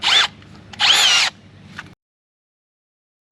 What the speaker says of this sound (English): When you are drilling your Tapcons into cement or brick